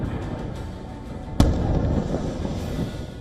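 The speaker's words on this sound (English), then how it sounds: "Booms echoed through Beirut." A single loud boom from an airstrike on Beirut bursts out amid a steady low rumble of distant blasts, its echo rolling on for a couple of seconds.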